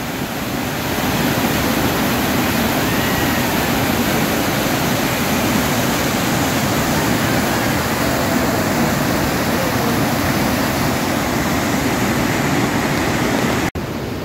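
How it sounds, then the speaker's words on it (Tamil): Jogini waterfall in Himachal Pradesh, with melting ice water pouring down, a loud, constant broadband roar of falling water that holds steady for the whole stretch and cuts briefly near the end. "இந்த ஐஸ் அப்படியே மெல்ட் ஆகி கொட்டுது"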